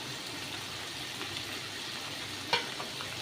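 Steady frying sizzle of potatoes and eggplant in hot oil, a constant crackling hiss with a few sharper pops, close and fairly quiet.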